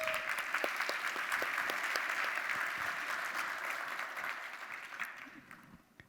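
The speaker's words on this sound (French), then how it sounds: "tonnerre d'applaudissants pour les 10 ans d'API Platform" Sustained applause from a conference audience celebrating the API Platform framework's tenth anniversary, a dense patter of many hands that holds steady, then gradually fades toward the end.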